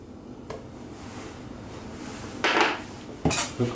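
Egg whites for a light strawberry cake are beaten in a bowl, with a low steady background followed by two short, loud bursts of whisking or clattering against the bowl near the end.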